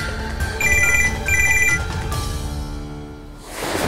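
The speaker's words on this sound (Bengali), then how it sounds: "হসপিটাল থেকে এতবার ফোন করছে কেন?" A telephone rings insistently with a repeating electronic ringtone, two bursts of bright tonal chirps over background music, apparently a call from a hospital in a drama scene; no one speaks during the ringing.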